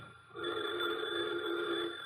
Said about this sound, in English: Pardon me, the phone's ringing.